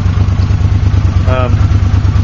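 A motorcycle idles close by with a steady low throb, sitting in place as in traffic, while a person talks over it.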